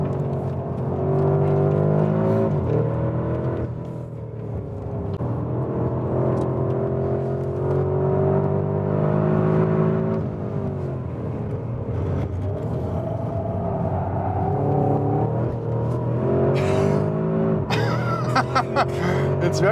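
Cabin sound of a Porsche Cayenne Turbo GT with a 640 PS engine under way, a loud, steady engine drone that rises and falls with throttle over the whole stretch, with brief higher noises near the end and no talk.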